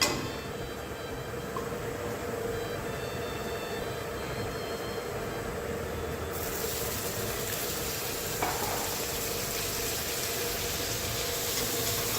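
Fresh tomatoes sauteing in oil in a pan, a steady low sizzle and stirring hiss running throughout, with a faint scrape of a utensil partway through and no talking.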